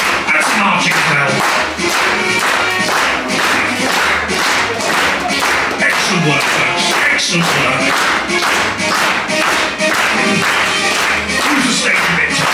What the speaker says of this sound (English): I would like to see you all marching and clapping on this one